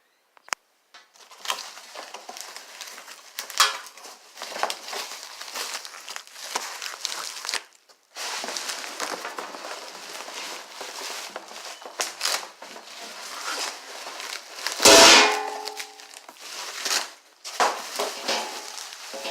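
Cardboard package with a transmission fluid pan inside being opened by hand, a steady run of crinkling, rustling and tearing with one sharp rip near the end, close and fairly loud, with no talk.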